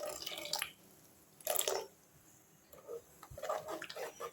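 Water pours and splashes into a pot of potato kurma in a few short bursts separated by quiet pauses, close and fairly soft.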